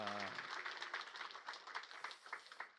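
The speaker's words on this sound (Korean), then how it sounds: "큰 박수로 격려하겠습니다" A church congregation at an all-generations worship service claps together in a brief, dense round of applause, loud at first and then gradually tapering. Some voices are mixed in.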